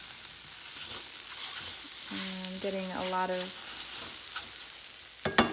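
Fresh cut garlic sautés in a pan with a steady, close sizzle and crackle, while a voice speaks briefly partway through and a few sharp clinks come near the end.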